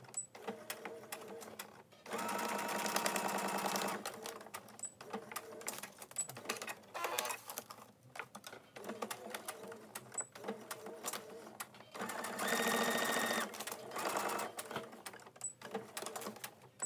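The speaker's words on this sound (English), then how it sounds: "I went ahead and added my sequence to both sides and I'm going to stitch them shut" A sewing machine stitches a shaker envelope binder shut, running in two loud, steady bursts of rapid mechanical whirring separated by quieter pauses, close up and alone.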